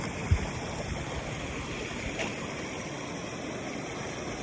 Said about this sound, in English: yet another water crossing with no bridge